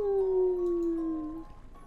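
A dog howls in the video game Professor Layton and the Azran Legacy, one long, slowly falling, tonal howl lasting over a second, close and clear, then fading out.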